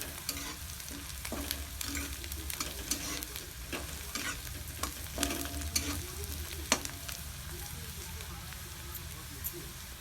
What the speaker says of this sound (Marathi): कांदा चांगला फ्राय व्हायला लागलाय